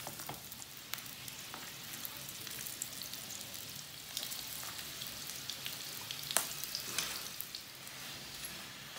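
An aloo anda paratha, a potato and egg flatbread, fries in ghee on a pan with a steady, close crackling sizzle and occasional sharper pops, and no talking.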